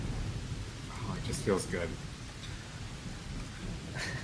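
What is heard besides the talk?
rain and thunder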